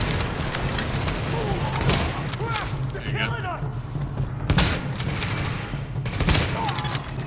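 Gunfire in The Division co-op mission crackles in bursts with a few sharper, louder cracks, while voices talk over the ongoing firefight.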